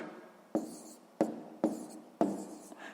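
Pen writing numbers for a column multiplication on paper, four distinct sharp taps with short scratchy strokes between them, close and quiet.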